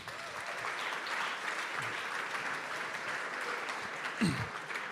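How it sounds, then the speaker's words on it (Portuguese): Audience at a church youth meeting applauding, a steady, moderately distant wash of clapping from many hands that holds evenly throughout, with a faint voice briefly heard over it. "Uma salva de palmas para eles aí."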